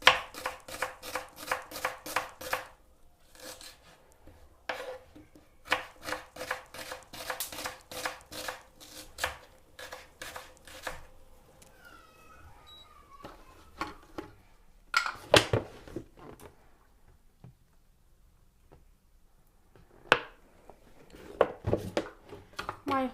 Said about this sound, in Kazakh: Сол себепті біз турап қойған пиязымызды сала береміз.